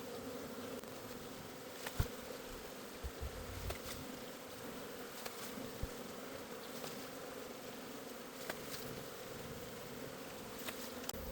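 A colony of about 60,000 bees living inside a wall drones in a steady, faint buzz, with individual bees zipping past the microphone now and then.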